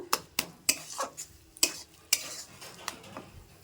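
Cauliflower curry sizzles softly in a pan while a spoon scrapes and clacks against the metal in sharp, irregular strokes, close and distinct, with no talking.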